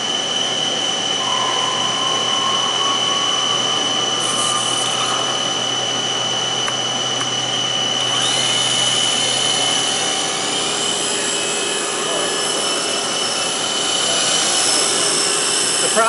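A model helicopter with a fly bar runs its main motor in a steady, high-pitched electric whine with tonal hum, holding continuous at close range with little change in level.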